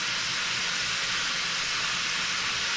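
Little pieces of Jamaican oxtail searing in a hot pan, giving a steady, dense hiss of sizzling fat that holds at an even level throughout, close up with no talking.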